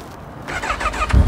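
A Honda CB1000 motorcycle engine starts up close by, a short burst of cranking that catches into a rising mechanical roar over just over a second, with no talking.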